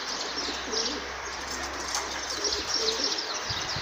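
Pigeons cooing in a rooftop loft, soft repeated coos mixed with light chirps over a steady background hiss, moderately close and without voices.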